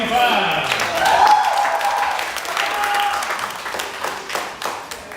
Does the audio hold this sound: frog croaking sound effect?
no